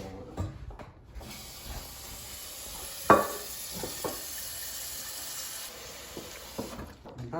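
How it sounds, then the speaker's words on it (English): Tap water runs into a cooking pot being filled for boiling, a steady rushing stream with a sharp clank around the middle and faint speech-like sounds over it. "Take this and fill it up with water and then boil it."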